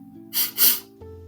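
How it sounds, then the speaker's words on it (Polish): Two quick, breathy sniffles, a sound effect in a children's bedtime story, rise briefly over a soft, steady musical background. "usłyszeli ciche pociąganie nosem"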